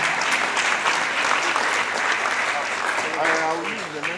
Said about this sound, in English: Clap for that one now.